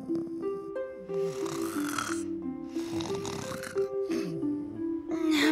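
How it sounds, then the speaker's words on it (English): A dog snores steadily with a raspy, nasal rumble that rises and falls over several breaths, mixed with snorts and wheezy sounds. A gentle musical tone plays underneath. "Napping on my favorite bed. Open mouth and snoring head."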